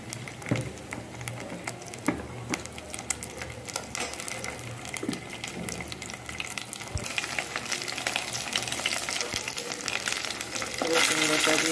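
Ginger paste and spices frying in a pan make a busy crackling sizzle with spatters and stirring, growing brighter and louder partway through.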